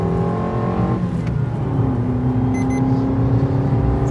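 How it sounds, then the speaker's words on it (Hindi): Maruti Ignis 2020 facelift BS6 petrol car accelerating at full throttle, a loud, steady engine drone heard from inside the cabin with a rising tone and a brief gear-change dip. "फुल एक्सलेट कर रखा है मैंने गाड़ी को और ये 100 टच कर गई।"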